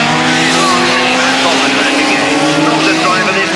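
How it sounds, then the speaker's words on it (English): Race cars on a warm-up lap, engines droning loudly with a rising whine as they pass close by, while someone talks over the noise. "Yeah, they're just a warm-up lap."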